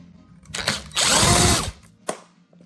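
A power tool removes bolts from under the front bumper of a Jaguar F-Type, with a short burst and then a sustained loud whir of about a second, followed by a brief final blip, close up with no speech.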